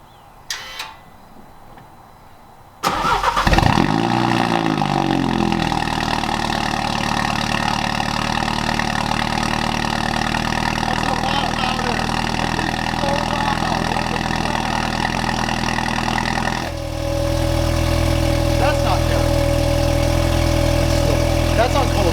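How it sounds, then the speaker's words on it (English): A Mini F56 with a catless downpipe cold-starts with its exhaust valves open: a cranking catch, then a loud flare that settles into a steady, raspy fast idle, dropping to a lower idle near the end. "Anyway, here we go. The first cold start."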